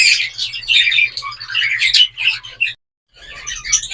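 Busy, bright chirping from several small birds, near and continuous, breaking off briefly before resuming.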